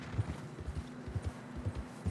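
Horse hooves in Red Dead Redemption 2 clop in a quick, uneven rhythm, soft and fairly close, with no talk over them.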